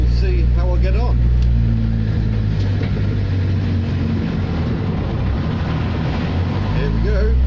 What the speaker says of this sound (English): It's got the Peugeot XUD diesel engine.